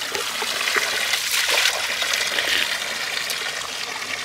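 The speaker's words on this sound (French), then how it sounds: "on voit des gens qui remplissent leurs bouteilles ici" Mountain spring water pours steadily into a bottle at an outdoor spring in Kabylie, Algeria, a close, continuous splashing gush that stays even throughout with no talking.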